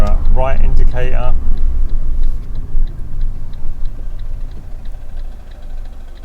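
A car's right turn indicator ticks in a steady, faint rhythm during a driving test route in Southend, Essex. The ticking sits under a low engine hum, and a voice talks at the start.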